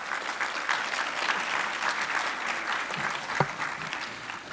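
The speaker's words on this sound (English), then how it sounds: "Yeah, round of applause." Audience at a business economic forecast event applauds as presenters are invited on stage, steady clapping from a sizeable crowd with a brief knock partway through.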